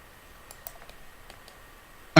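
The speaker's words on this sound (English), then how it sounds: "He's only been typing." A computer keyboard is typed on lightly, giving a few faint, scattered clicks spread over a quiet background, followed by a sharp louder knock at the very end.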